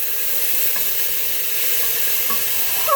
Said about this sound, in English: Stir for 30 seconds.